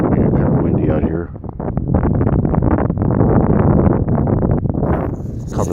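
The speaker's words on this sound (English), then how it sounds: "kind of windy out here." Wind off Perdido Bay buffets a microphone outdoors, a loud, rough low rumble that gusts continuously and dips briefly before surging again.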